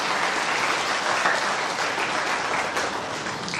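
An audience at a spiritual talk breaks into dense, sustained applause, a loud continuous wash of many hands clapping that holds steady throughout without any talking.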